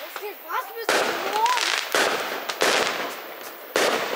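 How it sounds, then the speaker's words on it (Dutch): Fireworks go off during New Year's celebrations in Italy, with repeated loud crackling bursts and booms, each lasting about a second. People talk underneath the blasts. "En toen ineens was er vuurwerk."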